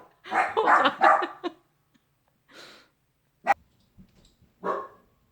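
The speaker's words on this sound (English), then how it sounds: "my dogs go nuts when they hear a knock" Dogs bark indoors at home in sharp, separate bursts: a cluster of loud barks first, then a few isolated barks and yips with quiet gaps between them.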